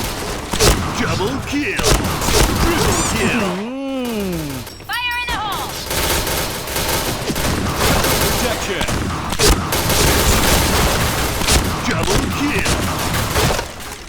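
Shotgun blasts in a first-person shooter game, in a headshot-only mode. Loud, close shots repeat over busy game noise, with a few sweeping whistle-like effects and a voice talking throughout.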